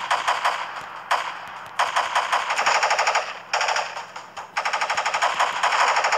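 Rapid bursts of automatic gunfire from the mobile shooter game Death Shooter 4, loud and sharp, coming in several sustained volleys separated by brief gaps.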